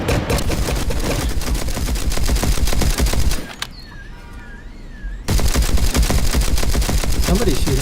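Gunfire in the mobile extraction shooter game Lila Black, dense rapid automatic fire rattling loudly and continuously, broken by a short quieter gap with faint electronic tones before the shooting resumes.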